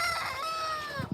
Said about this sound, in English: Them roosters are just starting to crow.